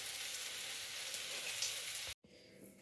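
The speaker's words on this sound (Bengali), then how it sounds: "দেখো আমার এই যে বড়া ভাজছে" Fritters (bora) and chillies fry in hot oil with a steady, dense sizzling hiss heard up close, briefly cut off near the end before the crackle resumes.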